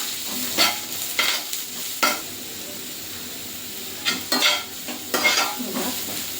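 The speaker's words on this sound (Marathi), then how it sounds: "कांदा पण ना आपल्याला थोडं मिनिटभर परतून घ्यायचा आहे" Chopped onion sautés with curry leaves in a pan, a soft frying sizzle underneath a series of brisk spatula stirs and scrapes against the metal, several short bursts close by, with no voices.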